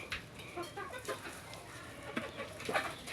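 Domestic hens cluck softly in scattered, irregular bursts at a rural home, faint and close together with light background noise.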